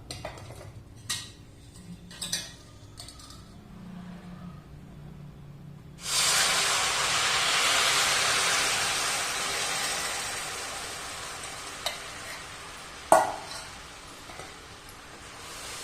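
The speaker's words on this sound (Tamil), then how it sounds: "சேர்த்துட்டு கட்டி இல்லாமல் நல்லா மிக்ஸ் பண்ணிக்கலாம்" Poured jaggery is stirred into dry-roasted flour in a pan, a steady hissing, scraping sizzle that starts abruptly and runs evenly, preceded by a few sharp utensil clinks and taps, with another clear clink near the end.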